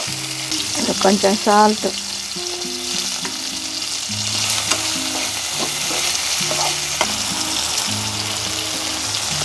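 Green chillies and tomato pieces fry and get stirred in a hot pan for Maggi noodles, giving a steady close sizzle with scraping stirs throughout, while a voice talks briefly near the start.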